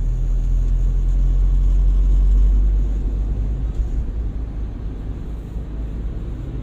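Heavy vehicles rumble past in steady morning traffic on the Pantura highway between Kanci and Losari near Cirebon, a deep, continuous drone that stays loud, then eases slightly.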